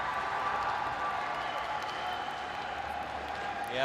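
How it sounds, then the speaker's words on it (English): Team supporters cheer on an athlete at the 17th World Wushu Championships during a taijijian taolu event: a steady wash of crowd noise from a packed arena, with indistinct voices throughout and a slight swell at the very end. "can hear Team Canada cheering her on"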